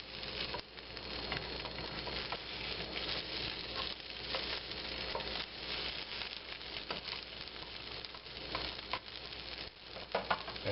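A homemade fake meat patty fries in a hot pan, giving a steady, close sizzle with crackling pops that runs the whole time, with no talking.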